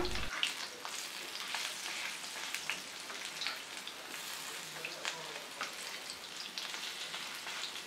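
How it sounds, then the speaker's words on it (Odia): Pumpkin leaf fritters deep-fry in oil with a continuous, fairly soft crackle and patter of bubbling, like light rain, with small pops scattered throughout. "ବରା ଆଡ଼ୁକୁ ଆମେ ପୁରା କ୍ରିସ୍ପି ହେବା ଯାଏଁ ଭାଜିବା"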